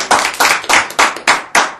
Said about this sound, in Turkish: Çok güzel bir alkış